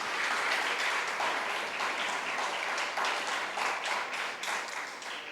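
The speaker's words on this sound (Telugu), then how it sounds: "ఒకసారి చప్పట్లతో థ్యాంక్స్ చెప్దాం." A church congregation at a 23rd anniversary service breaks into loud, sustained applause, dense clapping from many hands that carries on steadily and tapers slightly toward the end.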